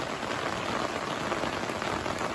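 Steady, fast rain drums on an umbrella among the hills of Samahni valley, Azad Kashmir, a dense, continuous close-up patter with no voices.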